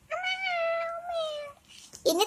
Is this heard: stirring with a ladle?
no